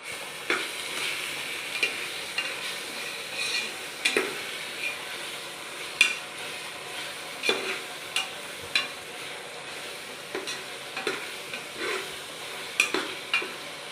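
Fenugreek leaves stirred and fried in a pan, a continuous soft sizzle punctuated by regular scraping strokes of a spatula every second or so, close and unaccompanied by talk.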